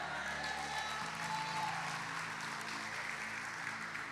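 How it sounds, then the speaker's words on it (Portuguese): Applause from a church congregation at a celebration service, a dense, even wash of clapping that carries steadily throughout, with a low sustained musical tone underneath. "dê um glória a Deus e aplauda o nome do Senhor"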